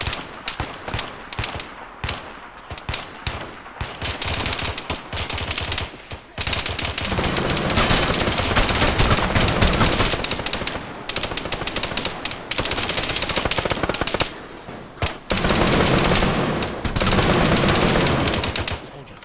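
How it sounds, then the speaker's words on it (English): Sustained automatic machine gun fire in the video game Arma 3, loud and close, with long rattling bursts broken by short pauses. "Contact. Machine gun."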